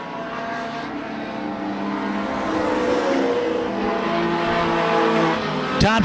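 Race cars in an Outlaw Mini class race working through lap traffic into turns one and two, a loud continuous engine roar from the pack with a sharp burst near the end.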